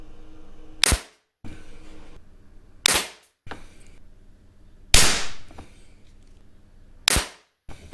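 Four sharp, loud air pistol shots at 10 m using H&N Red Hot pellets, fired from a spring-piston pistol such as a Beeman P17 or Zasdar LP400, spaced about two seconds apart with short mechanical clatter between them.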